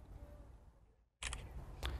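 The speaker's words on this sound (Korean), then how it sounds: "음성 명령으로 찍게 되면 찰칵" A smartphone camera gives a single crisp shutter click after a photo is taken by voice command, with a quick double snap right after a brief hush, then a faint second tick, all close and quiet.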